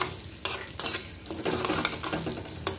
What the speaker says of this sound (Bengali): গরম মশলাটা একটু ভাজা হয়ে এসছে